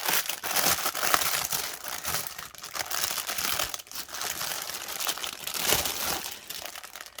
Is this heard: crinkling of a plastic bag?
yes